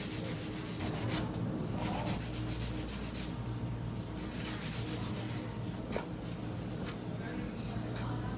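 Nails are filed by hand during a salon manicure, with quick repeated rasping strokes in bursts, close and continuous over a steady background hum.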